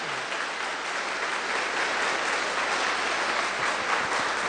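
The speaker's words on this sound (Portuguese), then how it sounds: "dê uma bela salva de palmas para o Senhor Jesus" Loud, sustained applause from a church congregation, dense and even throughout, with no pauses or speech over it.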